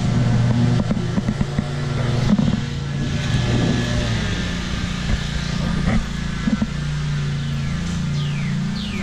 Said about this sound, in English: We just weed eat the front of this one.